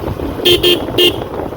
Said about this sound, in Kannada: one of the powerful horn ಒಂದು ಇದರದ್ದೇ ಒರಿಜಿನಲ್ ಹಾರ್ನ್ ಮತ್ತೊಂದು ಎಕ್ಸ್ಟ್ರಾ ಹಾರ್ನ್ ಹಾಕ್ತಾರೆ